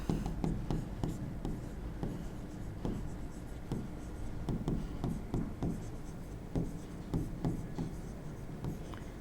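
Marker or chalk writing a quadratic equation on a classroom board, steady rhythmic strokes and taps close by, continuous through the clip with faint room tone and no speech.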